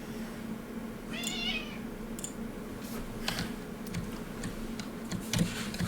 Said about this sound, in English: I heard a cat. oh, that's my cat.